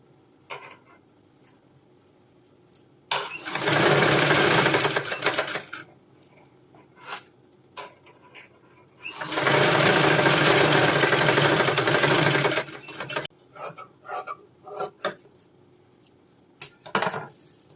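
A sewing machine stitches a princess cut blouse in two sustained runs of several seconds each, loud and close. Short taps and handling noises fall between the runs, and no one speaks.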